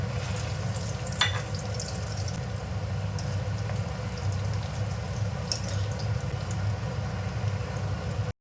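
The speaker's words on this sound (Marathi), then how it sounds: "बाकीचे जे पण शेंगदाणे डाळ्या वगैरे आहेत तर ते सर्व तळून घेते" Peanuts fry in hot oil for festive faral snacks, giving a continuous bright sizzle and crackle with a low steady hiss beneath and a few sharper pops and clinks, close and constant.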